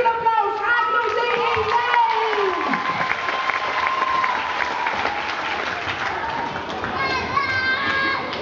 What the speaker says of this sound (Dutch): Geef een applaus, acro DE!